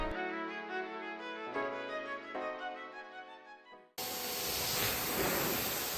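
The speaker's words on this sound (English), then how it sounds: "giving the rest of the vehicle a really good rinse down with the pressure washer" Pressure washer rinsing down a Ford Ranger, starting abruptly as a loud broad steady hiss of spray after several seconds of soft musical tones.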